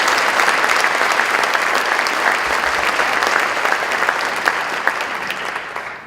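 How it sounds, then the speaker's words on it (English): Audience applause for 2018 Dave Cowens Award nominees in a hall, loud sustained clapping from a large crowd that continues evenly and begins to fade at the very end. "How about a nice round of applause for all of them?"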